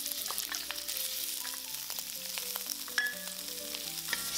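Shrimp stir-frying in a wok over high heat in oil, a steady close sizzle with scattered clinks and scrapes of the spatula throughout.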